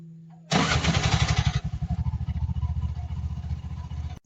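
A brand-new 2026 Bajaj 236cc three-wheeler with a starter motor fires up after a short starter crank, then settles into a loud, close, rhythmic putt-putt idle.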